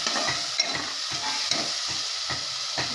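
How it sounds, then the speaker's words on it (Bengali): Onions with ginger-garlic spice paste stirred in hot oil in a Bengali home kitchen: a steady sizzle with soft, regular scraping strokes of the spoon, close by, with no talking. "এবার একটু নাড়াচাড়া করে নেব।"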